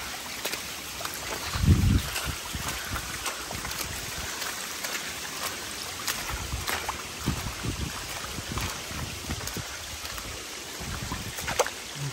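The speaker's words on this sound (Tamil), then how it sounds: "அழகாக இருக்கு அந்த தண்ணியில் நடந்து போகிறோம்." Feet wade through shallow stream water in the rocky Wadi Shab gorge, a soft, faint sloshing under a breezy outdoor hiss with a brief muffled bump near the start and no talk.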